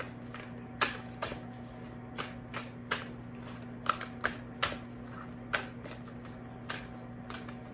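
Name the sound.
shuffling Alice in Wonderland oracle cards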